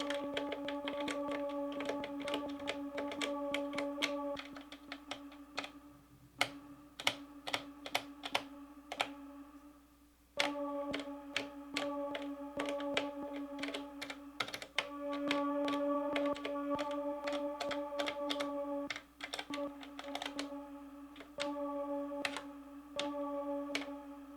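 Buttons on an Elektron Octatrack sampler are clicked rapidly and irregularly, a crisp mechanical-keyboard-like clatter heard close up over a steady, sustained tonal loop playing from the machine, with a couple of brief pauses.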